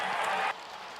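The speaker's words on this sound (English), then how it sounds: "the cheers in the crowd we're hearing obviously from the JMU Duke fans on this" Stadium crowd of JMU Dukes football fans cheering at a college game against Liberty, a broad roar that holds loud for half a second then drops to a lower sustained crowd murmur.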